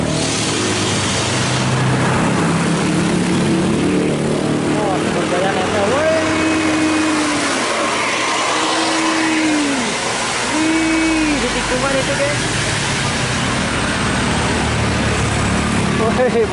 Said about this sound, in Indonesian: Nah, ada bus Sumber Jaya di belakang truk